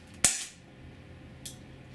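A Walther PPS 4.5mm CO2 blowback air pistol fires a single sharp, close crack with the slide cycling, followed about a second later by a fainter click.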